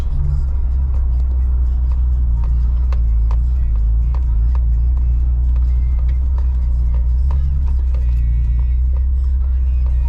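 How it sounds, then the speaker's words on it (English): Manual six-speed car on its first hard pull, gas floored without a clutch dump, the engine roaring steadily and loudly with low rumble throughout and scattered knocks over the top. "This is not dump clutch, I'm just gonna hit the gas right now."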